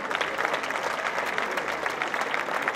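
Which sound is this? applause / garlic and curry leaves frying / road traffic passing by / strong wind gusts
applause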